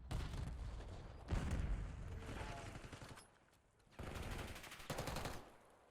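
Rapid gunfire bursts crackle through a Call of Duty match, several dense volleys of automatic fire separated by brief lulls, fairly loud and close with no one speaking.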